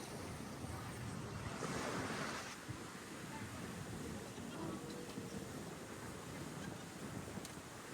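Sea waves wash along the shore at Kamana Resort in Subic, a soft continuous surf rumble with a brief swell early on and wind buffeting the microphone, faint and distant.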